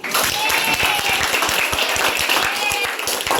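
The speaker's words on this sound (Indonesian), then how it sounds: "Silakan aplaus dulu ya." A class of schoolchildren claps together in a classroom, loud, close and continuous, with quick irregular hand claps throughout.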